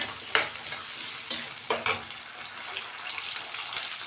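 Small shallots and garlic cloves sautéing in a pan of oil with a steady soft sizzle, punctuated by a few sharp stirring scrapes and clinks, close by with no talk.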